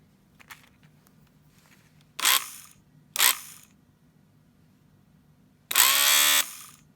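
A rewound 12 volt DC shifter motor from a 1958 Edsel whirs in short, close bursts: two brief spins, then a longer buzzing run, separated by near silence.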